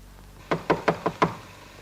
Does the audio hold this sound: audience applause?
no